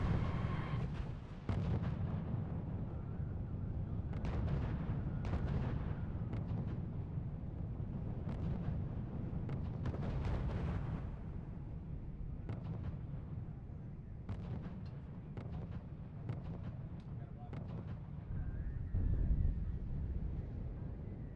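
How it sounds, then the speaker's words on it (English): Heavy gunfire and artillery fire rumble continuously in the WWII strategy video game R.U.S.E., Market Garden mission, with dense low booms and scattered sharp bursts throughout. "Unit reports heavy fire."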